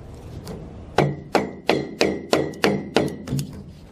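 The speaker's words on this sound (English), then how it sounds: "now we'll pound the pipe back towards the downspout into the fitting" A PVC drain pipe being pounded back into a downspout fitting: about eight sharp, evenly spaced hollow whacks, close and loud, with no talking.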